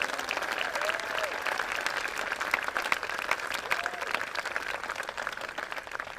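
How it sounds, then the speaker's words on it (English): Sustained applause from a large crowd at the San José State of the City 2024 gathering, honoring community heroes; dense, steady clapping holds at an even level for the full stretch. "One final round of applause for all of our community heroes this morning."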